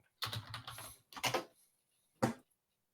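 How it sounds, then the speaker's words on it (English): Typing on a computer keyboard, close and crisp, in three separate bursts of rapid key clicks with silent gaps between them. "Waiting on typing."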